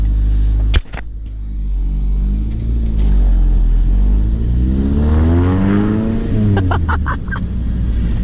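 A Honda CRX wagon pulls away and accelerates, engine rising steadily through the gears with a loud, close rumble and a whine that climbs and shifts, a couple of sharp clicks near the start.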